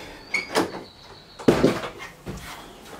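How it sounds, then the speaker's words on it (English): A ute's door is opened, giving a few sharp clunks and rattles of metal close by, with a short pause between them. "let's just open this door to try and get more light"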